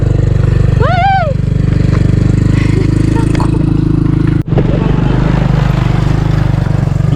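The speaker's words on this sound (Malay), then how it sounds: "kat sini actually kita boleh naik motor ke atas" A motorcycle engine drones steadily and loudly up the hill at Bukit Holbung, close by, with a brief whistle-like tone near the start and a sharp dropout partway through.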